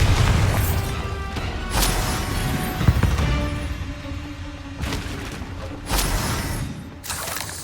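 A Bombarda blasting spell explodes in Hogwarts Legacy, a loud broadband boom that rumbles for several seconds, followed by further bursting blasts and crashing debris in a dense, continuous game soundscape.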